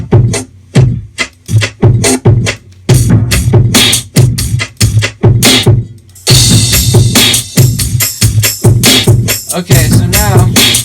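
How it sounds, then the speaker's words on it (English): Sampled drum kit playing a full groove, punchy kick and snare hits with crash cymbal and hi-hats layered together, loud and steady rhythm, brighter cymbal wash in the second half, no talking. "So all together, the drums sound like this."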